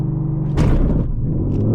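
A Roush supercharged 2019 Ford Mustang GT launching with launch control, a deep idle rumble bursting into a loud surge of engine roar and tire noise, then settling back.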